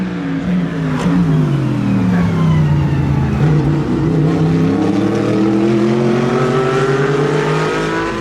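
Race cars on a circuit during a track day, Porsche GT3 Cup cars among them, doing their final laps; a loud, continuous engine drone with rising and falling pitch as cars accelerate and pass, with no talk.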